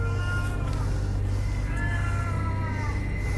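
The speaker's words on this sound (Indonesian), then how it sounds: "Coba ada kucing." A cat meows a few times, faint and drawn out, over a steady low hum in an indoor setting during a paranormal investigation, with no talk.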